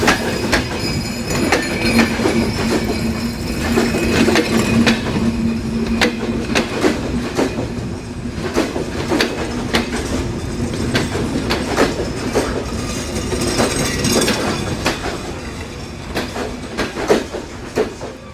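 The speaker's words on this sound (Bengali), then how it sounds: "এবং ট্রেন দুর্দান্ত গতি নিয়ে প্রবেশ করলো" A Shimanto Express passenger train runs fast on broad-gauge rails, loud rhythmic clickety-clack of wheels over joints repeating throughout, with occasional metallic squeals and a steady rumble.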